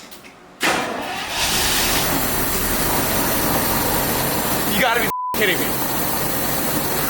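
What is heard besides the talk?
Jaguar car engine starting and idling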